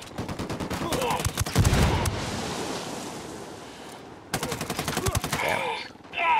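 Rapid bursts of automatic gunfire in the video game Ghost Recon Wildlands, a dense rattling volley, then a pause filled with rushing ambient noise, then another sustained burst.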